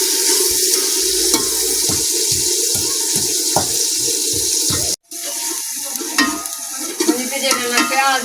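Fried onions with turmeric and spices are stirred in a pan, a steady sizzle broken by a series of regular knocks and scrapes of the spoon, then a brief cut and louder, busier stirring and clatter.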